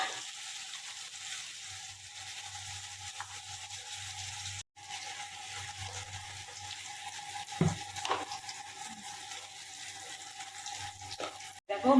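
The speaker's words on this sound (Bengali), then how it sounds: "এই দেখো ডালটা সবরাচ্ছি" Boiled lentils being tempered in a pan make a steady close sizzle over a low hum, broken by a brief cut and a few clinks and clatters near the end.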